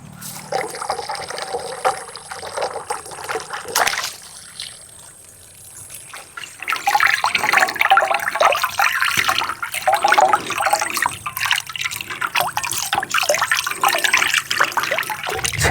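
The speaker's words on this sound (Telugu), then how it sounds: "ముందైతే ఈ చేపని బాగా నీట్గా కడిగేద్దాం పదండి" Water running and splashing while a fish is washed clean before a village-style fish fry, a steady liquid rush that briefly fades then returns louder and continuous.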